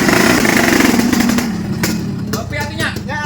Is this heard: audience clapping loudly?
no